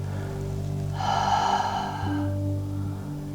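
A single audible inhale during a Pilates exercise, close and breathy, lasting about a second over a faint steady background hum.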